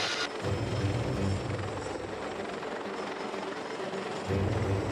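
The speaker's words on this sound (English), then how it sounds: "The helicopter is desperately trying to land on deck." A naval helicopter hovers over a ship's flight deck in heavy swell, trying to land: steady, loud rotor and turbine roar with dense low thumping, continuous throughout with no voices.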